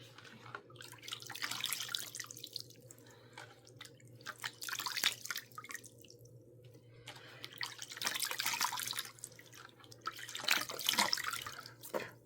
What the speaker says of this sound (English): I'm just gonna rinse here